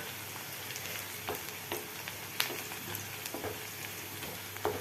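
Ingredients for tomato chutney sauté in a hot pan, giving a steady soft sizzle with scattered crackles and occasional stirring scrapes, close and moderately quiet, with no voices.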